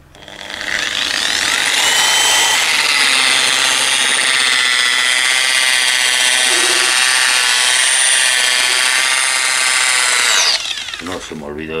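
A power polishing machine with a foam pad buffs and brightens nitro lacquer on a guitar body, whirring loudly and steadily for about ten seconds before spinning down near the end.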